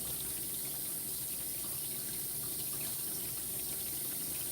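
Running water rinses soap from a small Yorkie during grooming, a steady close hiss of tap flow and splashing that continues unbroken with no talk.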